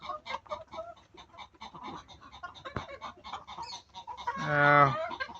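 Red egg-laying hens in a poultry coop cluck and call continuously at close range, with a louder, drawn-out squawk near the end.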